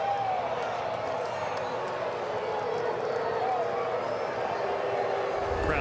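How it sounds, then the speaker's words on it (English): Sustained crowd noise at a Red Sox vs Braves baseball game, a broad steady roar of booing from a large stadium audience filling the whole stretch at even loudness, with no clear voice on top. "Crowd booing"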